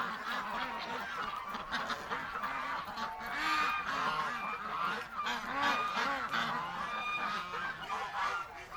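Several ducks and geese honk and quack loudly and continuously, their overlapping calls close by and busy throughout.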